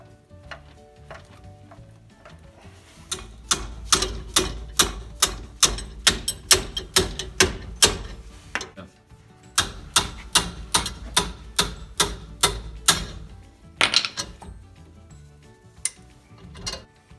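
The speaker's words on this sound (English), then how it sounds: "we're using this 3-jaw claw to try to pry it off" A three-jaw puller grinds against a badly rusted front brake rotor on a 2006 Chevrolet HHR, giving two long runs of loud, evenly spaced metallic clacks with a short pause between them, each run about five seconds.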